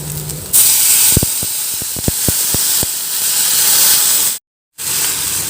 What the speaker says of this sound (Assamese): এতিয়া পানীখিনি দিওঁ ৰ'ব।